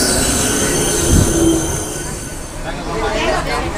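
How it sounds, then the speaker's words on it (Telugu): A local train pulls into a station in Chennai, its wheels squealing against the rails through a steady rumble. Voices murmur on the platform beneath the train noise. "ఇదండి మన లోకల్ ట్రైన్ వచ్చేసింది."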